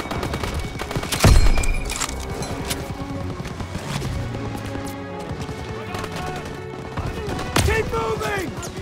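Call of Duty WW2 combat brings bursts of machine gun fire from a barn, mixed with scattered rifle shots and a heavy impact early on. Soldiers shout over the shooting, which continues loud and ragged throughout.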